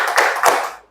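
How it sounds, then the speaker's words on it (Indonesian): Two sharp hand claps from a classroom 'tepuk toleransi' routine, loud and close, spaced about a quarter second apart with a short ringing tail after each. "kita tepuk toleransi dulu bersama-sama"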